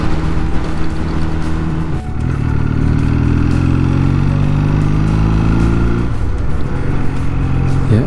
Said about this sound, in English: Yeah, lots and lots of traffic here.